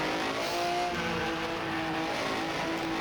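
A 1950s Ferrari Formula 1 race car works through twisty corners at a Pescara demo race, its engine a steady, loud drone with shifting harmonic tones, held in one gear and heard continuously without talk.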